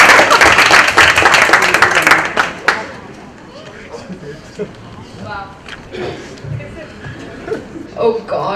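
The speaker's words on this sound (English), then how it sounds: "Let's all clap for Isha." An audience at someone's WET book launch, with a celebrity present, claps for Isha: a loud burst of applause for about three seconds, then fading into murmuring crowd chatter and nearby talking.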